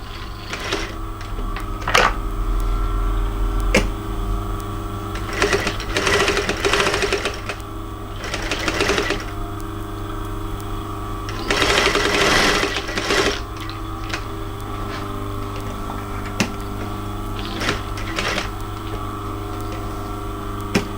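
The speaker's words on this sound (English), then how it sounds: "That is why we double stitch that place." Sewing machine double-stitching faux leather for a midi bag, running in bursts of rapid mechanical stitching with short pauses and steady motor hum, close and moderately loud.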